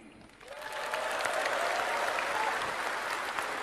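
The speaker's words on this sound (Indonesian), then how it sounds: "Tepuk tangannya kurang semangat." An audience at a political speech breaks into applause, a quiet start swelling into steady, dense clapping that holds for a few seconds.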